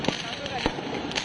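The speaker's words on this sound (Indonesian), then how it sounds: "Aksi saling serang menggunakan petasan oleh dua kelompok warga terjadi di kawasan Pasar Gembrong, Jatinegara, Jakarta Timur" Firecrackers thrown between two groups of residents in a street brawl on a road near Pasar Gembrong market, Jatinegara, East Jakarta, go off as a few sharp bangs in a noisy crowd scene.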